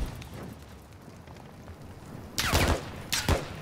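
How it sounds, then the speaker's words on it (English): Gunfire in the Call of Duty Modern Warfare II video game sounds as two short bursts of rapid shots after a stretch of low background rumble, moderately loud and somewhat distant. "I hear somebody shooting."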